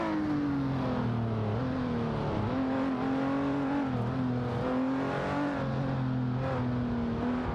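Engines of a Lotus 311 and a Lamborghini Sesto Elemento race neck and neck in an AI racing video game, giving a sustained, steady engine drone whose pitch dips and climbs briefly, with no talk.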